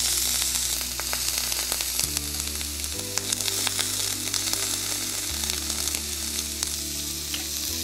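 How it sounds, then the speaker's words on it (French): Meat sears in a Brabantia frying pan as it is turned, with a loud, continuous sizzle full of sharp crackles over a low, steady musical drone. "Maintenant, je vais retourner ma viande et vous voyez comment elle est bien saisie."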